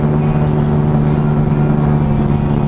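Mash cafe racer motorcycle cruising near 120 km/h, a steady loud engine drone with strong low harmonics and wind roar, continuous and close throughout with no talking.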